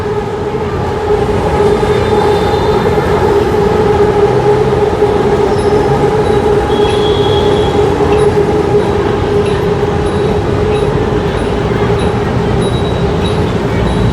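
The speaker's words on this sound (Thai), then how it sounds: "นี่รถไฟกำลังแล่นผ่าน" A train passes by below, heard from above as a loud, steady rumble and roar of railcars with a constant low drone. Faint high wheel squeals run under it for the whole stretch.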